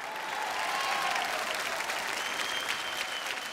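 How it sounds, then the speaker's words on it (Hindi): Audience applause at an awards show honoring comedian Kapil Sharma, a dense sustained clapping from a large crowd that holds steady throughout. "मेरी पूरी टीम के लिए मैं चाहता हूँ तालियाँ होनी चाहिए"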